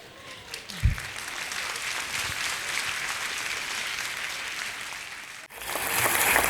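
An audience at a talk in Pune breaks into sustained applause that swells and holds steady, then cuts to a slightly different burst of clapping near the end.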